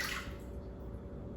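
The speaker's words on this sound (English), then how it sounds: "So I've got some water" Water pours into a mixing bowl as wet ingredients for a historical strawberry bread are combined, a steady, close, soft liquid splashing and trickling with no talk.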